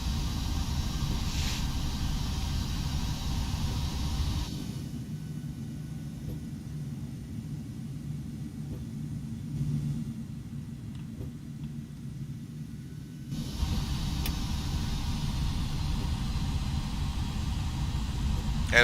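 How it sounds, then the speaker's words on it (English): Boeing 757 freighter jet engines in the X-Plane 11 flight simulator, a steady low rumbling drone that dips quieter in the middle stretch then returns, continuous and fairly close. "Listening to those engines"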